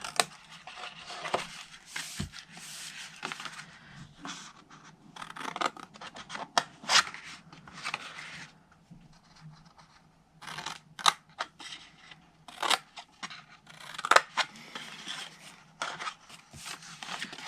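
Scissors snip through a cardstock rectangle, cutting straight sides for a stamped hedgehog cookie-cutter gift. The close, crisp cuts come in irregular bursts with short pauses, and no one speaks.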